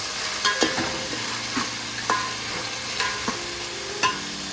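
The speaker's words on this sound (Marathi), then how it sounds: "मिक्स करून घेऊया." Biryani masala of onion, tomato and spices being stirred and fried in butter with garlic paste, a steady sizzle under scraping spoon strokes that come every second or so.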